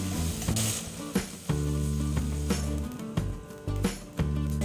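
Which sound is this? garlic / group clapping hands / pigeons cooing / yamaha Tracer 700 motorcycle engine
garlic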